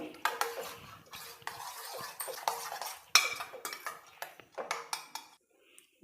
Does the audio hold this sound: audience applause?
no